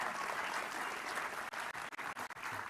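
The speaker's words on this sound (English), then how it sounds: "Everybody, big round of applause." Sustained audience applause at a culinary opening ceremony, a dense steady wash of many hands clapping that breaks into brief gaps near the end.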